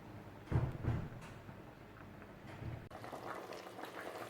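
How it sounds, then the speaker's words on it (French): Cameroonian pepper soup bubbles in a covered pot on the stove, a faint steady simmer with a couple of soft louder blips early on. "vous voyez comment notre pépé soupe est en train de bouillir"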